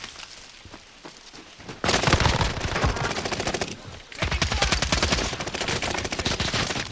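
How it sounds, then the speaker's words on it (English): Video-game gunfire, with rapid loud crackling volleys in two long sustained bursts after a quieter start, close and dominant, with no talking. "Is he sniping at you, Don?"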